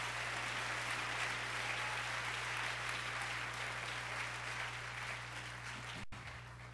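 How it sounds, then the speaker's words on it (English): A church congregation claps together in a sustained, fairly quiet burst over a steady low hum, the clapping slowly thinning toward the end. "Somebody clap your hands and tell God thank you."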